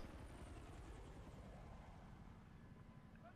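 A helicopter in Battlefield 3 on Wake Island, its rotor thumping steadily under a broad whooshing roar, constant and fairly distant, with no voices.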